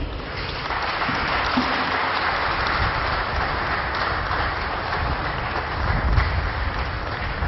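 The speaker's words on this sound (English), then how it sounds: "I think she deserves a louder round of applause, a standing ovation." Sustained, dense applause fills a tribute event for a late professor, a steady broadband wash of many hands clapping at an even level throughout, with no voices on top.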